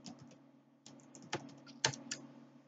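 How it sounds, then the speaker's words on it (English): Keys click on a computer keyboard in short bursts of quick taps with brief pauses between them, close and fairly quiet, with a low steady hum underneath. "I'm just going to type in Greenland."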